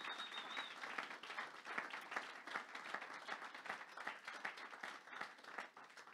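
A church congregation at a French-language worship service breaks into sustained, dense applause, many hands clapping steadily together at moderate distance, with a brief faint whistle early on.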